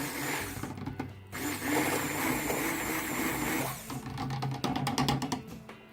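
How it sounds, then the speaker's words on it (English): A stick blender whirs in bursts through a batch of cold process soap, its motor buzzing at close range with a brief pause, then a few short pulses and clatters near the end. "So let me hit that with the stick blender real quick,"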